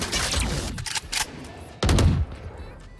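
Loud gunfire in Valorant, a sustained burst at the start, a couple of short shots in the middle, then another heavy burst near the end, close and punchy with no voices.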